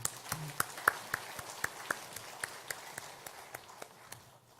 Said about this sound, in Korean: 우리 다 함께 박수 한번 하시죠.